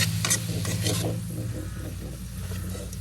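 Eggplant sautéing in a pan, stirred with scraping and rubbing strokes of a utensil over a steady close sizzle, continuous and fairly loud with no voices.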